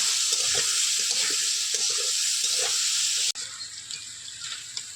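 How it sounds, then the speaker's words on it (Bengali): Potatoes fry in oil with salt and turmeric, a loud steady close sizzle with stirring scrapes, the hiss dropping sharply near the end to a softer crackle. "পরিমাণ মতো হলুদ দিয়ে একটু ভালো করে ভেজে নেব।"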